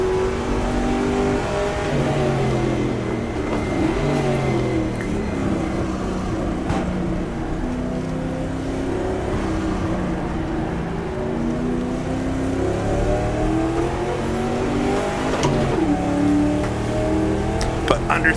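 A 1966 race car in the video game GTR2, at the Daytona 24 Hours, runs quick through the infield section, its engine revving up and down through gear changes continuously while someone comments over it.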